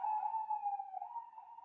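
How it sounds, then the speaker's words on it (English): A siren wails steadily in the distance, a single wavering tone holding for the whole stretch without fading out. "let's let those sirens go by"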